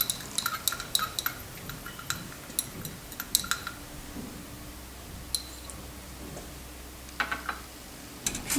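Stirring a previously filtered solution in a glass lab beaker: light, irregular clinks and ticks of a stirrer against glass, quiet and close, with small pauses between taps.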